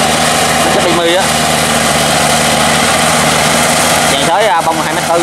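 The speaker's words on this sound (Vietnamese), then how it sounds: "đây là cái con máy xới bánh xích tự chế và gác đầu động cơ là" A homemade crawler tiller powered by a Yamaha engine on a tracked undercarriage runs loudly and steadily close by, with a constant engine drone outdoors in a field.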